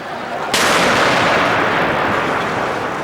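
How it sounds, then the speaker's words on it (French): A remotely detonated bomb in Iraq goes off in one loud, abrupt blast followed by a long, roaring, noisy rumble that fills the rest of the moment. "L'explosion a probablement été déclenchée à distance"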